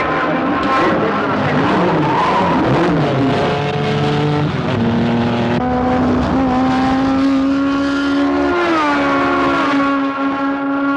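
A race car tears around a racetrack in a checkered-flag race, its loud engine whining continuously at high revs with the pitch climbing and shifting through gears, close and dominant throughout.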